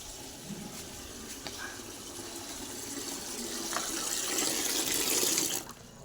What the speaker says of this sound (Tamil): ஸோ தண்ணி பிடிச்சாச்சு